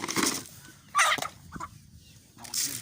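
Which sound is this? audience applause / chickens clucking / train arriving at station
chickens clucking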